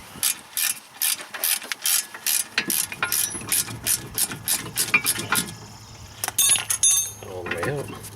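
Socket ratchet turning a bolt out of a BMW E36 front brake assembly, giving quick, close bursts of metallic clicking in an uneven rhythm, with a voice briefly heard between them.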